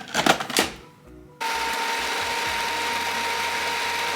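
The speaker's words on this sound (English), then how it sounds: "so we're going to close that and blend it" A blender whirs to life after brief clattering, then runs with a steady, loud mechanical grinding as it blends a fish ball mixture of fish and black pepper.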